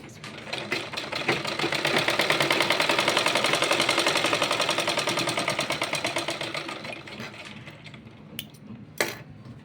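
A sewing machine stitches a small child's kurta in one long run, a fast rhythmic mechanical chatter that swells and then slows to a stop, followed by a couple of sharp clicks.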